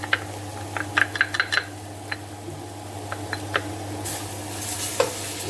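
Garlic and ginger frying in a Quarter Acre pot, a steady low sizzle with a run of sharp spoon taps and scrapes against the pot, close and alone with no talk.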